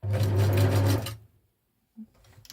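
A sewing machine stitches fabric ruffles in a rapid, loud mechanical chatter for about a second. Silence follows, then a single soft click and a faint bit of handling noise.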